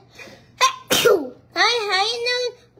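A child sneezes sharply once, then a drawn-out vocal sound follows, close to the microphone.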